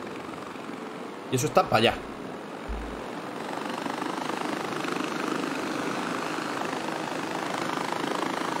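Far Cry 4 helicopter engine, a steady droning whine and rotor hum running continuously at even loudness, with a short burst of speech near the start over it.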